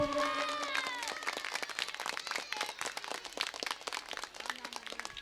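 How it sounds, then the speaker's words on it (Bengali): Boys in a school audience at a silver jubilee event clap loudly together, a dense, rapid patter of many hands over crowd noise. A voice sounds at the start and a few shouts rise later. "প্রথমে ছেলেরা একটা জোর করে করতালি হোক।"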